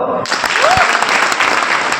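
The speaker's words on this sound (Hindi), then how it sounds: "ताली बजाओ।" An audience at a motivational talk breaks into clapping, dense and steady applause filling the room for about two seconds, with a voice briefly audible over it.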